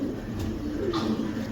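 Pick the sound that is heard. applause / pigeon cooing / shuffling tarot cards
pigeon cooing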